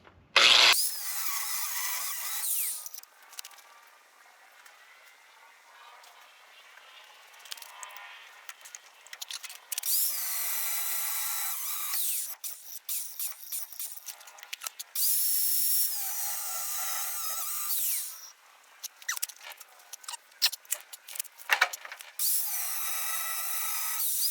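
A power tool cutting about a quarter inch off parts on a first-generation Dodge dually truck, heard as repeated loud high-pitched whining bursts separated by short pauses, close by with no talking.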